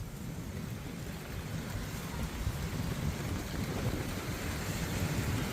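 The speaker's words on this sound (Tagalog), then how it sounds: "Ang lakas naman ng ulan." Heavy rain pouring steadily at a riverside barangay strewn with washed-up trash, a dense continuous roar with no pauses that stays loud and close throughout, with no voices.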